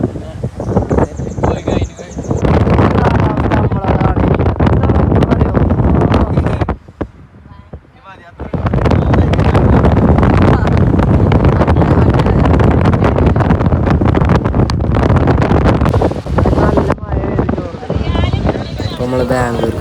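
Strong wind in a forest along a road toward a mountain pass, loud roaring gusts buffeting close and continuously, dropping away briefly before surging back hard.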